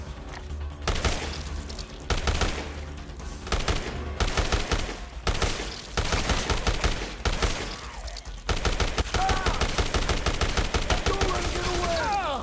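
Rapid gunfire from a gun in the Dead Rising remake, loud repeated bursts of shots that keep going steadily with brief pauses, with faint speech in the background.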